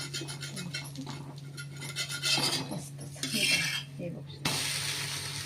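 A spatula rasps and scrapes across a hot pan while turning and lifting Kolhapuri-spiced coriander dhapate, a steady close scraping with louder bursts and a sharp change near the end, no voices.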